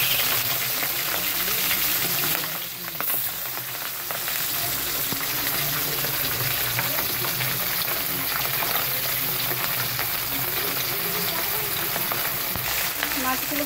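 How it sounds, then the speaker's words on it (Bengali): Pabda fish sizzling and frying in hot oil in a pan, a steady close crackle and hiss that runs throughout with no voices over it. "মাছগুলো ভাজা হচ্ছে বন্ধুরা"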